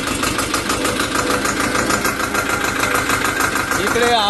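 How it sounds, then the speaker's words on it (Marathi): A new tractor's engine runs steadily and loudly throughout on a farm, a continuous mechanical drone with rhythmic knocking, heard up close. "आज ही tractor ride with new tractor"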